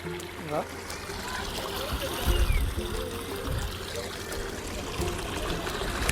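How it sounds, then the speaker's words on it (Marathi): Water seeps and trickles steadily from a well outdoors at Malang Gad, a soft continuous flow with low rumbling background noise throughout. "या विहिरीतून पाणी येतं इथून झिरपत झिरपत"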